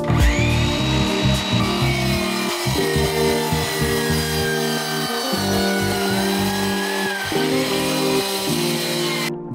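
Sawing through an IKEA Mosslanda wooden shelf with painter's tape along the cut line, a continuous rasping back-and-forth of the blade in wood, close and loud for nearly ten seconds with no talk.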